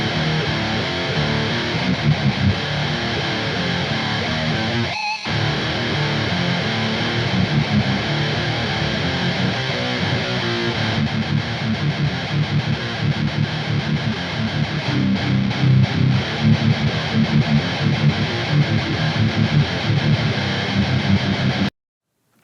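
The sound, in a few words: electric guitar reamped with Boss Metal Zone pedal as boost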